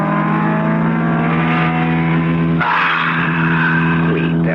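A car engine sound effect for a 1974 radio drama holds a loud, steady droning roar that shifts to a harsher, higher revving pitch partway through, with nothing else heard.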